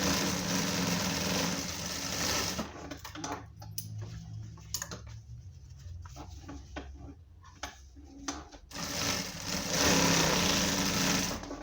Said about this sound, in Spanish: Y ahí sí puedo pasar los 3 pespuntes que faltan, que son los otros 3 lados del bolsillo